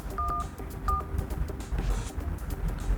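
Retro keypad dialer on a Motorola Razr 40 Ultra foldable phone sounds two clear touch-tone beeps close up, over a low background hum with no talking.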